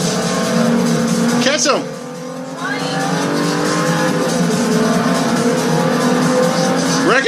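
A PS1 driving-school simulator game plays a steady car engine drone with squealing tires and brief revving sweeps, loud and continuous, while people talk over it.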